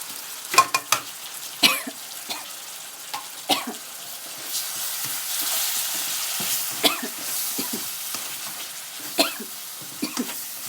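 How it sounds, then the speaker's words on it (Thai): Canned fish and chili paste are stir-fried in a pan, giving a low sizzle with scattered sharp scrapes and stirring knocks at irregular moments, with no talking. "ผัดให้เข้ากันก่อนค่ะ ระหว่างนี้ก็เบาไฟได้แล้วค่ะ"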